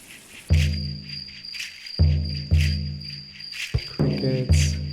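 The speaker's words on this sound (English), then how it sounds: "Crickets," Night ambience with a steady high cricket chirp held throughout, set inside a rhythmic loop of deep pulsing drum hits that land roughly every second and swell loudly over it.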